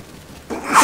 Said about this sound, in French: Oh, j'ai envie d'éternuer.